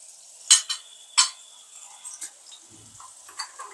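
Onion and panch phoron fry in a pan while a spoon stirs, sharp scraping strokes and clicks standing out over a faint, steady sizzle.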